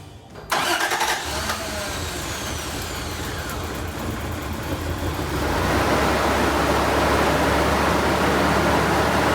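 A cheap truck's engine cranks and catches after a tune-up and new alternator, then idles roughly with an uneven, throbbing rumble that grows louder and fuller partway through.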